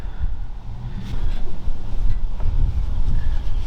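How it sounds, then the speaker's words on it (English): Outdoor wind buffets the microphone during an oil change on a WRX, a loud, rumbling low roar that gusts unevenly throughout with no talking. "Damn wind."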